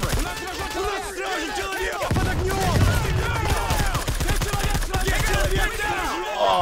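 Rapid gunfire from soldiers in the Army Men of War video game, with dense, continuous bursts of shots and layered automatic fire over a busy battle background.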